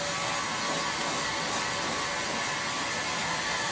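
Heat gun running on high during a ClearPlex film installation gives a steady, close, even blowing whoosh that holds without change.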